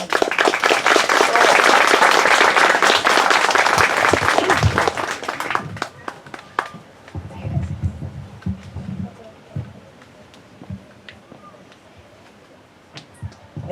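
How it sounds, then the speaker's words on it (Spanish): Audience at a fantasy novel presentation bursts into loud, dense applause for about five seconds, which fades into scattered claps and room murmur. "Un aplauso para ella."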